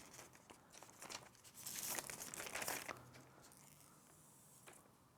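Protective plastic film is peeled off a Google Pixel 3a phone, a close, faint crinkling that swells into a louder tearing rustle midway and then fades, with no voices.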